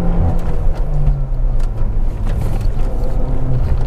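A 2010 Peugeot RCZ automatic climbs a misty, wet hill road, its engine droning steadily up close with a low rumble and faint shifting pitch beneath cabin noise.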